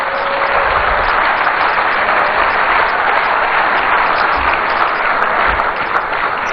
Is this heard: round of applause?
yes